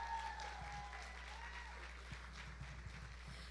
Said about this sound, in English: one big round of applause to Julia Wagger